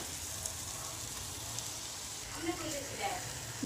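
Pieces of hilsa fish frying in oil in a kadai give a steady, fairly soft sizzle with light crackles that pick up toward the end.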